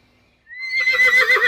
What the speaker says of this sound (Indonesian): Keluarlah seekor kuda.